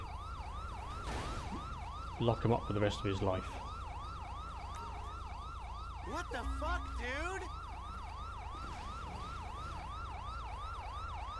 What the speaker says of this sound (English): Police cars heading this way over